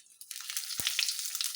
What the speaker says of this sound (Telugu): ఇప్పుడు కొంచెం తాలింపు గింజలు వేసుకుందాము.